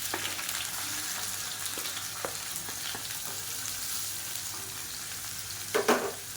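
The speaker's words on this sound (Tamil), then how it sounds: "இப்போ நல்லா பொரிய ஆரம்பிச்சிருச்சு" Spices and sliced onion fry in hot oil in a pan for a leftover idli dish, giving a soft, steady sizzle with light crackles and a brief burst of stirring near the end.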